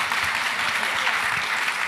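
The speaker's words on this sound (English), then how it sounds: "So just another round of applause for this amazing women team." An audience claps for a panel of women at a live-streamed event, giving steady, dense applause throughout with no voices over it.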